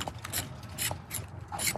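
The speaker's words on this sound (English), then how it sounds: "Okay, take the knife, scrape it." A knife blade scrapes against wood in short rasping strokes, like peeling a carrot, about four close, distinct scrapes in an uneven rhythm.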